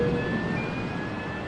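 Airport apron with aircraft: a steady jet engine whine and roar fills the air, with a high tonal hum held over a low rumble and no talk.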